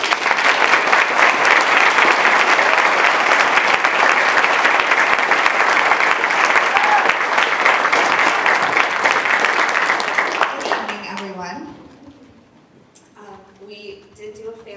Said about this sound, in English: if everyone can give her a warm round of applause